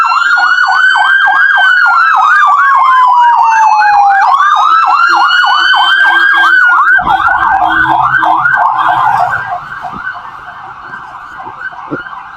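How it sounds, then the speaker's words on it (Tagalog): A loud ambulance siren wails close by on a city street, its rising and falling tone cycling steadily before dropping away as the vehicle passes, leaving lighter traffic noise. "Uy, may ambulansya po."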